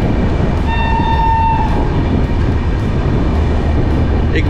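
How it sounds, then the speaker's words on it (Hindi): Duronto Express train running at medium speed past Sevagram Junction, a loud steady rumble of wheels and carriages with a sustained horn tone sounding briefly early on. "सेवाग्राम जंक्शन को स्किप कर रही है हमारी ट्रेन।"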